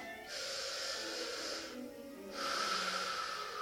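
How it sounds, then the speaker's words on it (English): Two deep, airy breaths during a flute lesson, each a long drawn inhalation with a brief gap between them, close and clear with no talking over them. "So when you breathe, one idea is to hold your ribs and take a deep breath."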